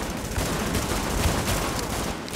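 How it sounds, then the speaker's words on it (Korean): Sustained gunfire in The Division's Dark Zone, a dense rattling fusillade of rapid shots that stays loud and continuous throughout. "열심히 쏘고 있어"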